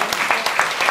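A theatre audience at a Threepenny Opera performance gives a brief burst of applause, fairly loud and steady across the short moment with no other sound over it.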